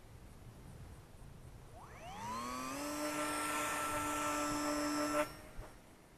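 Brushless motor of an Eachine Mini P51D Mustang warbird RC plane spooling up into a high, steady whine, holding for about three seconds before cutting off abruptly, fairly close.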